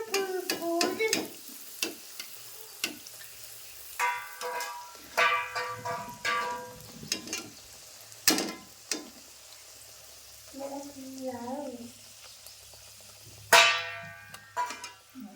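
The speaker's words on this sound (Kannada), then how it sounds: "ಈಗ ಪೂರಿ ಫ್ರೈ ಮಾಡ್ಕೊಂಡ್ರಿ" Small mini puris deep fry in hot oil, with a soft steady sizzle broken by repeated sharp stirring and clinking strokes at close range, and a short bubbling burst partway through.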